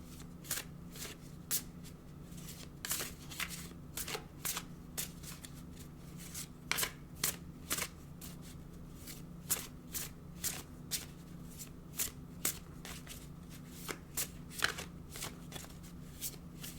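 A deck of oracle cards is shuffled by hand, giving quiet, repeated riffling and flicking snaps in an uneven rhythm over a low steady background hum, with no one speaking.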